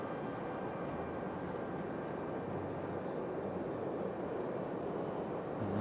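A plane landing at Raleigh Durham airport after a flight from Nashville, heard as a faint, distant, steady engine rumble that stays low and even throughout.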